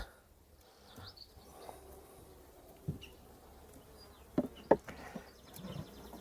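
Honeybees buzz around brood frames taken from a hive, a faint steady hum with a few louder passes of single bees close by. There is occasional handling noise and no speech.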